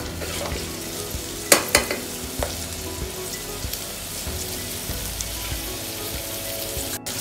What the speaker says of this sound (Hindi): एक दो मिनट के लिए इसे ऐसे ही ऑयल में फ्राई करेंगे।